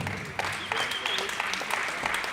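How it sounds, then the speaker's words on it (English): Crowd applause follows a mixed martial arts bout at the 2018 IMMAF Africa Open in Johannesburg, a short burst of scattered claps with a voice speaking over it. "Let's give them a round of applause."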